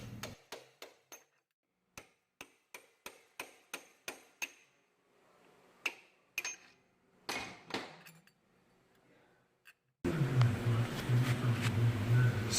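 Sharp metallic taps on the loose front pulley of a Zero electric motorcycle, struck in quick separate blows, a few clustered then spaced apart, close and fairly loud, ending in a burst of louder workshop noise.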